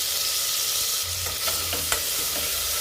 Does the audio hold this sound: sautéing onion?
yes